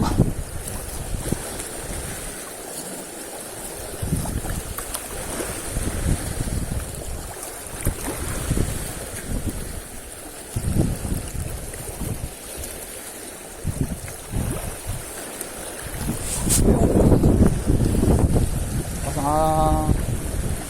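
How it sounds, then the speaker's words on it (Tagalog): Strong wind buffets the microphone over the steady wash of waves, with surges of gusty rumble and a boat-like drone throughout; no one speaks. "Malakas ang alon tapos malakas din ang hangin."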